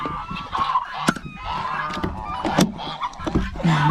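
Hungry chickens in a snowy, frozen farmyard, clucking and squawking in loud, overlapping bursts close by, with some knocks and clatter mixed in.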